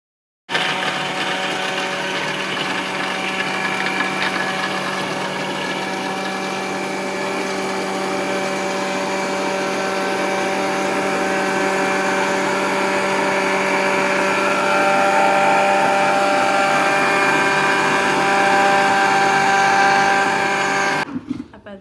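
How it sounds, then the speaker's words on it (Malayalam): A mixer grinder runs at full speed blending mint, lime and cold water for a drink, giving a loud, steady motor whine with a constant hum that holds for about twenty seconds before cutting off abruptly. "എന്നിട്ട് നമുക്കിതെല്ലാം കൂടിയിട്ട് മിക്സിയിൽ വെച്ചിരുന്ന് അടിച്ചെടുക്കണം"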